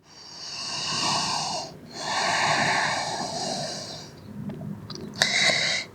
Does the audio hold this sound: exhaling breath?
yes